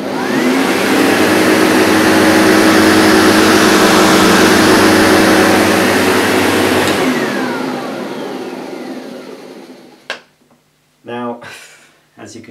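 A Sebo Ensign SM2 upright vacuum cleaner on its lowest setting runs over pet hair on low pile carpet, a loud steady whine and rush for about seven seconds, then winding down, followed by someone speaking close up.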